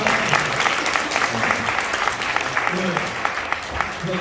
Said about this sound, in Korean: 네, 박수 해주시면 됩니다.